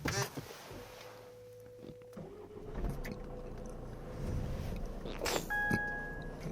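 A Jeep Renegade diesel engine is started and heard from inside the cabin: a brief starter whir, then a low steady idle rumble building up, close and moderately loud, with a short beeping chime near the end and no talking.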